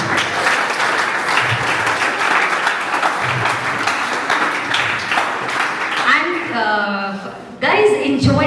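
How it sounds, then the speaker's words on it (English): Audience applause at a school quiz contest for a Class IX group, steady clapping from a crowd filling the room, with a voice speaking over it near the end as it fades. "Guys, enjoy this applause."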